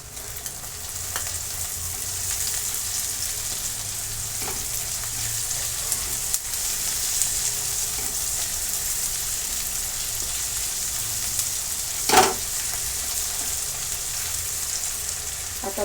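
Potato and coriander sizzling steadily as they fry in a pan, a constant hiss of hot oil with occasional stirring clinks and one sharper knock, close and without talk.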